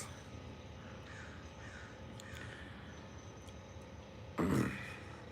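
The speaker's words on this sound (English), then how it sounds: "Yeah, crows are pretty common here." Crows perched in a tree caw from a distance, faint and scattered over steady outdoor background noise, with one louder, rougher call near the end.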